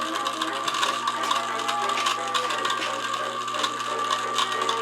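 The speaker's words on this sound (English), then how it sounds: "You'll see the motor probably turns about turns at a good rate, and it can't be stopped." An ice dispenser's electric motor drives its high-torque gearbox with a steady, continuous mechanical whir and a fine ratcheting, clicking texture, running close and even throughout with no talk.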